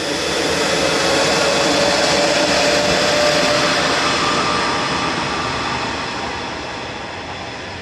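An airliner, registration ending 2EB, departs Manchester Airport bound for Palma de Mallorca with a loud, broad jet roar that swells and then gradually fades over several seconds, heard without voices.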